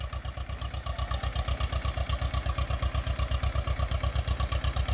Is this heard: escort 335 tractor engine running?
yes